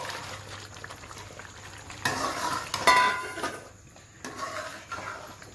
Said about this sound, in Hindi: अब मैं इसमें चने ऐड कर रही हूँ।